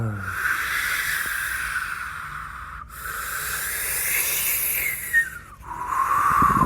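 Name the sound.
voice imitating wind in the trees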